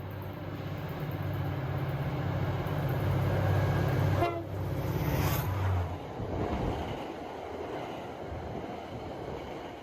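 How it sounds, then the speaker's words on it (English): Outbound MBTA commuter rail train heading toward Lowell, roaring past at track speed with a loud horn blast, then a rushing, rattling pass that fades away, no voices. "here's an outbound roaring at track speed towards Lowell"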